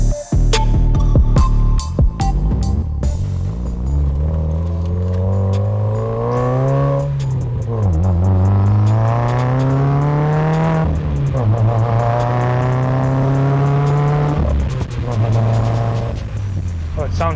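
A car engine pulls loudly through gear changes on a drive, rising and falling in pitch as it revs up and settles, close and continuous throughout.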